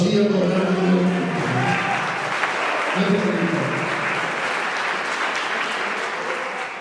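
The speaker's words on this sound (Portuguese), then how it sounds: "Pode aplaudir e adorar o nome dele." A church congregation applauds during a worship service: sustained, dense clapping fills the room while a voice speaks over it early on.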